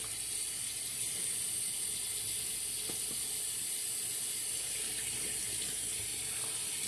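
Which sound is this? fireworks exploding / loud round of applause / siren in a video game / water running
water running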